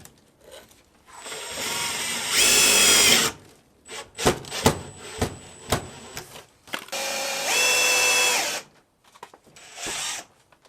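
A power drill drives self-drilling sheet metal screws, in two long loud whirring bursts with short clicks and taps between them, close by and with no talk.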